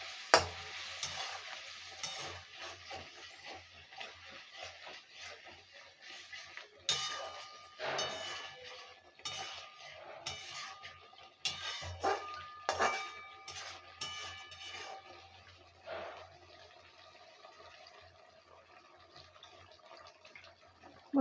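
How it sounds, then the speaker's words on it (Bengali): Water is added to a Bengali rui fish curry cooking in a pan, giving a steady sizzle and frying hiss with stirring scrapes and occasional clinks of a utensil against the pan, close and continuous. "এবারে অল্প করে জল দিয়ে দেবো"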